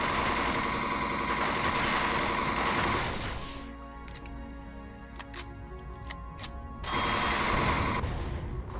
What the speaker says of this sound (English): Damn you, sentry guns.